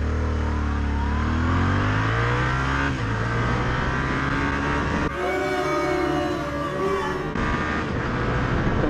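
A Yamaha XSR700 motorcycle engine revs up and pulls away in first gear, its pitch climbing steadily before a gear change, loud and close with a rough mechanical tone.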